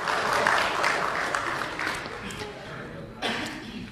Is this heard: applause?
yes